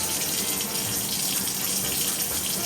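Tap water runs in a steady broadband hiss and splash as it fills and rinses hog casing in a kitchen, loud and continuous throughout with no talk.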